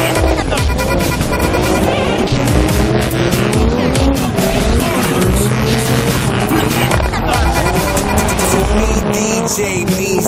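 A drift car slides sideways through a big left-hand bend at a JDM drifting event. Its engine roars close and loud while the tires squeal continuously, with crowd and track noise behind.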